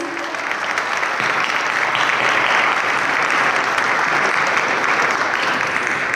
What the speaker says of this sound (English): Can we all have a round of applause for him, please?